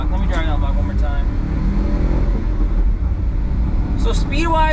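A Daihatsu HiJet S210 kei truck engine revs and accelerates up close, a steady loud droning rise heard from the cab, with someone talking briefly at the start and end.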